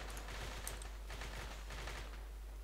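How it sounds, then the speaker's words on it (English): Rifle fire in the military shooter game Arma 3, a quick burst of several sharp shots over a steady low hum, fairly faint and without voices. "Gonna throw some rounds back there."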